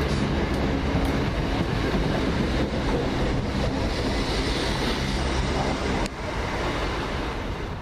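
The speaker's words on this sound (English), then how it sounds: "First fast train of the day goes to First Hall Trains." A Hull Trains express from London King's Cross to Hull roars through Peterborough station, a loud sustained rush of wheels and wind lasting several seconds with a sharp clack near the end.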